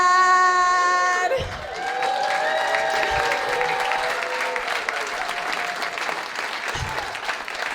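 Audience applause at a stand-up comedy set, a loud sustained wave of clapping from the crowd that eases slightly and carries on for several seconds, with a few scattered louder claps and some voices mixed in.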